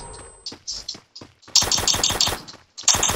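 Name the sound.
pump shotgun gunfire in a video game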